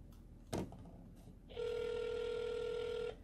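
Ringback tone of an outgoing telephone call to the city of Leon Valley, a single click followed by one steady, clear electronic ring lasting about a second and a half, with no talking.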